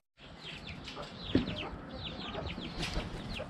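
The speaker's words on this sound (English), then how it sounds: "And the rooster was up there just a second ago." A rooster clucks and chatters in soft, repeated bursts at close to middle distance against a quiet outdoor background, with one brief louder sound partway through.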